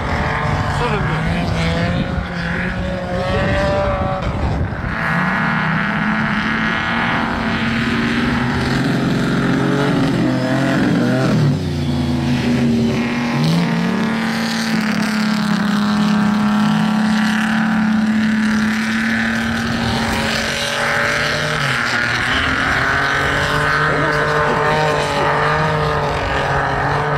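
Expensive supercars driving on ice: a steady loud engine drone with rising and falling revs runs throughout, and people talk over it.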